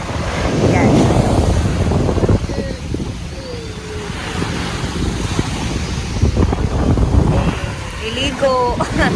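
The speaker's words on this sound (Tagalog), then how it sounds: "Dito kami sa dagat." Sea waves and gusty wind at a beach near Dumaguete or Cebu, a loud continuous wash of surf and wind buffeting the microphone, with voices talking throughout.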